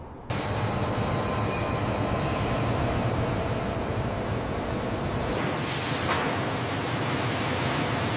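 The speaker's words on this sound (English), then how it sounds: "the CR450 represents the next leap in high-speed rail" A CR450 high-speed train runs past as a steady, dense rushing roar that shifts in tone partway through. It is continuous and fairly loud, with no voices.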